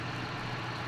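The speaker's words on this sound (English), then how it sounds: "you can hear the tractor running" A tractor engine runs in the Farming Simulator 2013 video game, a steady low idling drone that holds constant, close and unbroken, with no talking.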